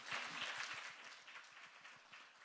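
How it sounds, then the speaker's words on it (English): Conference audience applause in Korea: faint, distant clapping in a fairly even rhythm that continues throughout. "Please give another big round of applause."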